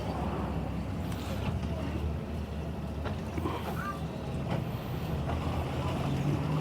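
A Regal LX 43 boat pulls away from the dock, rumbling at low speed, engine drone and water churning under steady wind buffeting the microphone.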